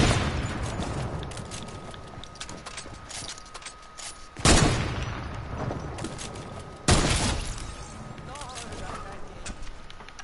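Video game gunfire in a multiplayer match, with rapid shots and two sharp loud blasts standing out, heard under ongoing voice chat.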